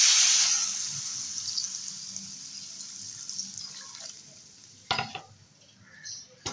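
Water for a thin curry broth goes into a pot of sautéed bata fish masala, opening with a loud hiss and splash that fades into a low simmer, then a couple of brief clattering knocks near the end.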